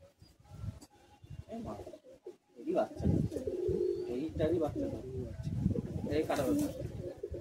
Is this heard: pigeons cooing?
yes